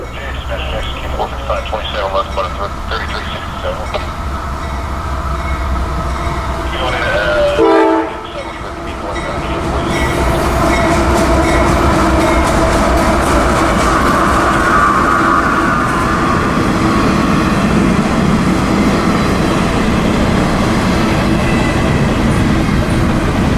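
An intermodal freight train on its nightly shuttle run rolls in around a curve, a loud, sustained rumble of rail cars with horn blasts and clickety-clack that builds from a brief dip into a steady roar, with a voice talking over it.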